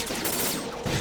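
Dense burst of rapid gunfire in the video game Metal Gear Solid 2, loud and continuous for about a second with no talk over it.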